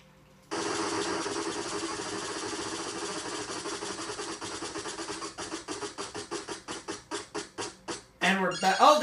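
In the NES Wheel of Fortune game, the wheel spins with a rapid electronic ticking that starts dense and slows into spaced clicks as it winds down, followed by a brief game jingle.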